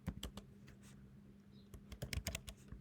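Quiet, close clicking of keys on a computer keyboard while code is typed, in irregular bursts with brief pauses and no talking.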